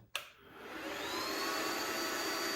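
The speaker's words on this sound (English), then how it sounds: "the fan is really loud" A click, then the cooling fan of a 1/12 scale C395 hydraulic model excavator whirs up to a loud, steady, high-pitched whoosh that stays constant.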